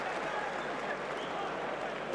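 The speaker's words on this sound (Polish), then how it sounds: "Absolutnie zasłużone brawa." Applause from a boxing crowd after the Ricky Burns versus Paulus Moses bout, a dense steady wash of clapping and crowd noise that fills the arena without a break.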